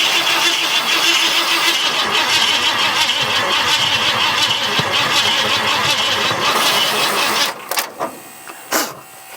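An old, neglected Ford F100 pickup engine cranks and fires, then runs roughly at a loud, uneven idle close by before cutting out, leaving a few sharp knocks and clunks.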